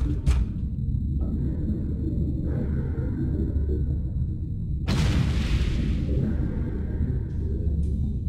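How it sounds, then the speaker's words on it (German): Video game explosions in No One Lives Forever: deep, continuous rumbling with a sharp, loud blast around the middle that crackles and fades, set against a steady low drone. "Aber hier explodiert immer noch ziemlich viel."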